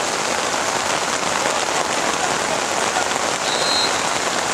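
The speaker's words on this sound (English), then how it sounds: "You can hear the sound of this rain." Steady, heavy rain pours down over a flooded outdoor field during a youth under-13 rugby match, a dense, constant hiss that stays loud and even throughout with no voices on top.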